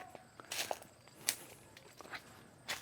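Footsteps crunching through a garden orchard, a handful of irregular steps on dry ground and leaves, close by but fairly quiet, with no one talking.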